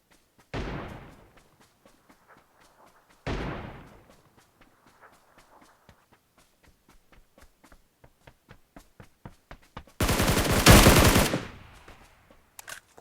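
Gunfire in the battle royale game PUBG New State: two single booming shots with decaying echoes, then a stretch of quick faint footsteps, ending in a loud close burst of automatic fire.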